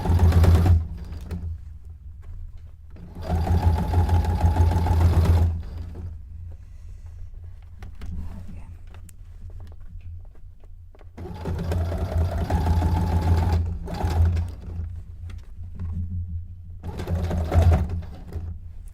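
A sewing machine stitches through the ribs of a cone-shaped avant-garde cape, running in two long loud bursts with a heavy low thumping clunk, separated by quieter pauses and short stitch spurts.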